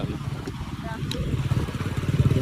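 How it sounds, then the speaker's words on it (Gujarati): A motorcycle engine putters nearby in the morning, its rhythmic throb rising as it goes past, with people talking over it. "બાઇક નીકળી બાઇક"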